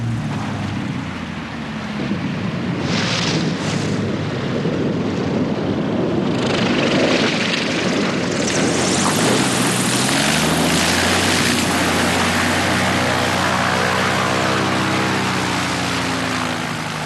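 A propeller-driven bush plane in Alaska drones steadily and loudly throughout, its engine pitch rising as it powers up for takeoff from a small, rough strip.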